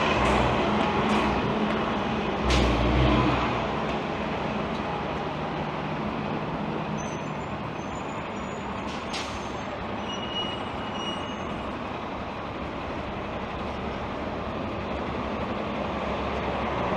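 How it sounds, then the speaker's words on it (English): Shuttle buses turn out of a Toronto station: a heavy diesel rumble with a couple of low thumps early, then steady traffic drone with faint high beeps, no talking. "you can see the shuttle buses turning northbound out of the station"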